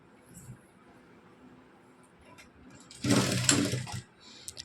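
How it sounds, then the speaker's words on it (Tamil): A sewing machine stitches a blouse seam in one loud, steady burst of about a second, preceded by quiet handling noise and a faint click at the end. "நம்ம தையல் போட்டு எடுத்துக்கலாம் இதே மாதிரி நம்ம இன்னொரு பக்கமும் தைச்சி எடுத்துக்கலாம்"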